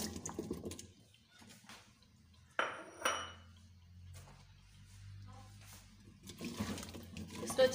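Potatoes are stirred into fried masala in a pan, with close clinks and scrapes of a utensil against the metal, intermittent bursts separated by quieter stretches.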